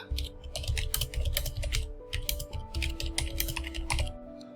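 Someone types on a computer keyboard in quick, steady bursts of close, crisp key clicks throughout, with no talking.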